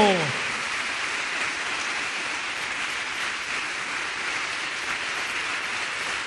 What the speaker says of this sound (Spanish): Sigue aplaudiendo